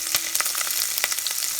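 Chickpea gravy sizzles and crackles in a hot pan as ginger is added, a bright continuous fry dotted with sharp pops.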